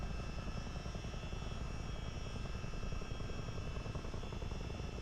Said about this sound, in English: So I want to keep an eye on the height of my helicopter.